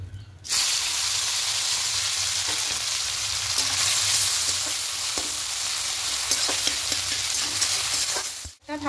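Chopped onion and tomato fry in mustard oil in a wok, a loud continuous sizzle with occasional stirring scrapes and clicks, no talking.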